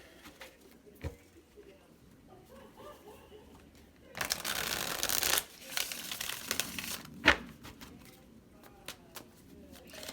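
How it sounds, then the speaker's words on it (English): Tarot cards are shuffled close by: faint taps and crinkles, then a dense riffling burst lasting about a second, followed by scattered light snaps and a sharp tap. "One more shuffle."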